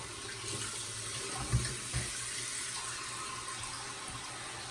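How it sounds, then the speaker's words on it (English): Steady tap water runs into a sink, a continuous broadband rush with a couple of small clunks, close by and fairly quiet. "Fill the sink back up with water."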